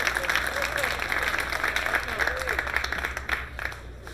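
Spectators applaud at a World 10-Ball pool final, a broad steady wash of clapping from a large crowd that fades slightly toward the end, with a commentator speaking over it.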